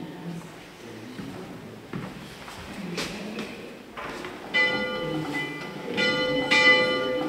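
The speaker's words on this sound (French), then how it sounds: "Comment résister au plaisir de faire sonner cette cloche comme au bon vieux temps?" The old 1655 bell in the chapel's bell tower in the Guebwiller valley rings repeatedly, its strikes growing fuller and louder as the swinging builds, with bright metallic overtones lingering between strokes.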